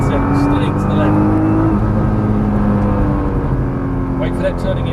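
A Nissan GT-R engine roars under acceleration on the Exotics Racing track in Las Vegas, a loud, close, sustained drone with rising harmonics, while an instructor talks over it from inside the car.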